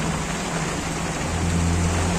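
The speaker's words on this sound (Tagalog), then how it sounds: "Lakas ng ulan." Heavy rain pours down outdoors as a dense, loud, continuous hiss that fills the whole clip, with a low steady rumble underneath.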